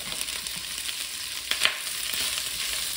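Sliced food sizzles steadily in a hot pot, a close, even frying hiss broken by a few sharper pops midway, with no talk.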